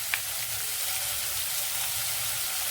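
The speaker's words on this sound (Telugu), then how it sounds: "దీంట్లో పచ్చిమిరపకాయలు ఉల్లిపాయ ముక్కలు వేసేద్దామండి." Green chillies and onion pieces fry in hot oil for a Telugu thotakura tomato curry, giving a steady, soft, even sizzle with a faint clink near the start and no voices.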